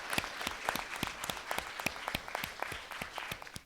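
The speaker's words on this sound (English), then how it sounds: "Let's give them a round of applause." A courtroom audience at a 2012 mock trial championship round gives a team a round of applause, heard as quiet, distant, uneven clapping with individual claps standing out.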